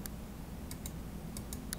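Quiet computer keyboard presses during circuit wiring in LTSpice, several light, crisp taps in small clusters spread over about two seconds, close-up against a low steady background hum.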